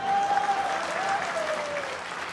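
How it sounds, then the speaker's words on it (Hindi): Sustained audience applause at a political speech in Madhya Pradesh, a steady dense patter of many hands clapping throughout, fairly close and loud, with no one speaking over it. "पर ताली बजाने से होगा क्या?"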